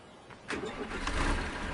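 A tractor engine in Farming Simulator 2013 cranks briefly, then catches and settles into a low, steady rumble.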